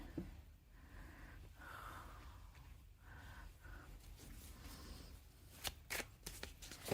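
Cards shuffled for a card reading, faint soft riffling and sliding of the deck over a quiet room hiss, ending in a few sharper close snaps and taps near the end, no talking.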